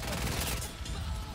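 Villar Perosa submachine gun firing in Battlefield 1, a dense rapid burst of gunfire with mechanical clatter that runs continuously for just over a second, loudest at the start and thinning slightly toward the end.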